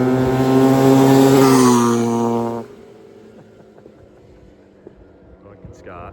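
A Honda CR500 two-stroke dirt bike engine on pavement, loud and droning for over two seconds before cutting away abruptly, followed by quieter background noise with faint scattered sounds.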